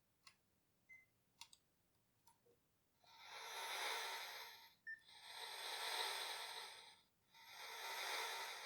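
Electronic breathing effect from a 1980 Palitoy Action Man Space Knight toy's respirator: a few faint clicks and button ticks, then three long, hissing, airy swells in slow rhythm, quiet and close.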